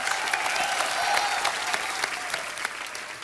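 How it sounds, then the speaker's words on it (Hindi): Studio audience at a comedy show breaking into loud, sustained applause: thick, continuous clapping from a large crowd, close and even, with faint cheers underneath. "जोरदार तालियां एक बार।"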